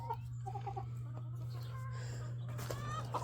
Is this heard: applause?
no